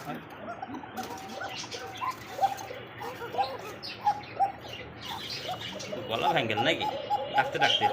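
A pair of Cocka pigeons sitting on eggs in a clay pot coo softly amid chirps and background bird noise, with people talking throughout at a pigeon market.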